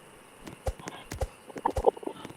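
A horse's hooves clip-clop in a video game, with irregular close thuds of walking hooves and faint voices talking in the background.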